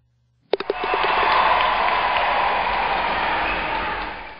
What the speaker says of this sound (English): we'll be able to hear the first drop and then the bounce as the crowd starts cheering